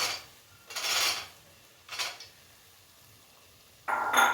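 Washed red soya beans being sautéed in oil in a pan, with a few separate bursts of scraping and stirring about a second apart and near quiet in between.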